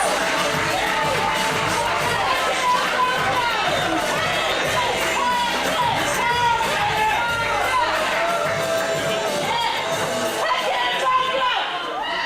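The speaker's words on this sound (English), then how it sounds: "We give a massive round of applause for our third years who will be leaving us" Students at a university presentation evening on the Warrington campus send off departing third-years with a loud crowd roar of cheering, whoops and shouts, sustained throughout and fading at the end.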